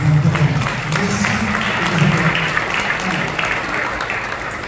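An audience applauds a company president at a business awards event, dense, steady clapping that holds for several seconds with a faint crowd murmur underneath.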